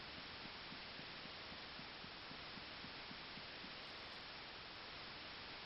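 Unbroken white-noise hiss from a television screen in Fear and Hunger 2, loud and constant, with a faint low rhythmic pulsing beneath it for much of the stretch.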